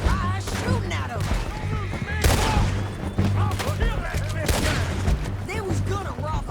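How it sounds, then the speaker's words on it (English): Rapid bursts of gunfire in Red Dead Redemption 2 during a chase, sharp overlapping shots crackling close and loud over a steady engine-like rumble, with a voice shouting between volleys. "I'm shooting at him."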